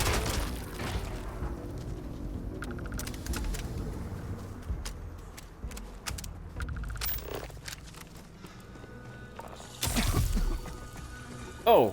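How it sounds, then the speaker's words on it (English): A grenade detonates in a Starfield firefight with a short, heavy low boom late in the scene, following stretches of footsteps, rumbling movement and other game noise. "See how they react to a grenade."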